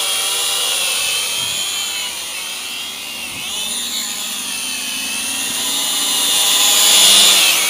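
Eachine E51 folding selfie drone motors whirring steadily during a gentle automatic takeoff, a close high-pitched buzz that swells slightly toward the end.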